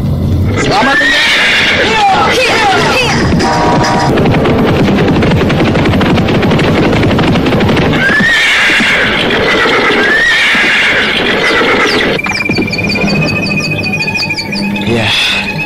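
Horses neigh and whinny several times over a steady loud background, with hoof clip-clop mixed in, in a dramatised historical setting near a royal city; people talk throughout.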